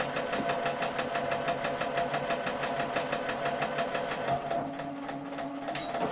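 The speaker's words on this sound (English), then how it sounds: "I'm going to go a couple of stitches forward and a couple of stitches back, just to lock off my stitching at the beginning" Sewing machine stitching a small fabric strap rectangle forward and then backstitching, with a steady close rhythmic needle hum that dips and shifts in tone near the end.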